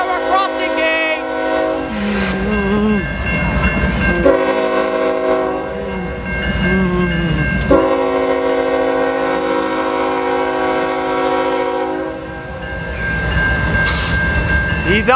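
A Norfolk Southern auto rack train with a Canadian Pacific locomotive, number 6590, passes the Visger Road railroad crossing in Ecorse, Michigan. A loud locomotive horn blows in repeated long blasts over a close, steady rail rumble.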